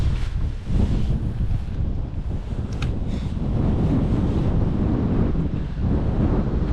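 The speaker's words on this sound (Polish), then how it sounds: "Uff, ale ten wiatr to taki troszkę nieprzyjemny" Steady wind roaring and buffeting close to the microphone, a constant low rumble with gusty swells throughout.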